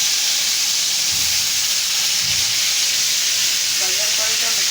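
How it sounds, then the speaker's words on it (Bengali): Loitta (Bombay duck) fish pieces coated in turmeric and chilli frying in oil, a loud continuous close sizzle and hiss that stays steady throughout with no one talking. "মাছের পিসগুলারে ভাজবো।"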